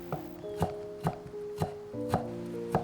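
A knife cuts deodeok root into fine strips on a cutting board, giving about six evenly spaced, crisp thuds close by over a soft background hum, with no one talking.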